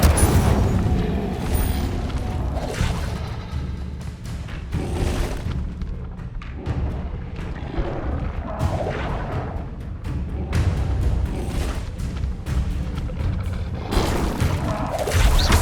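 Fire spell impacts from Hogwarts Legacy, a dense run of heavy thuds and booming bursts that repeat steadily with crackling debris and rumble, loud and close, with no talking over them.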